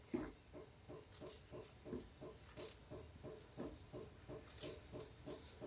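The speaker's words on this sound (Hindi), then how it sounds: "इधर मेरा ये कद्दू उबल रहा है।" A pot of pumpkin boiling for a fasting-day halwa, giving steady bubbling and soft popping with a faint hiss, a moderately quiet and continuous simmer that stays close and has no talk over it.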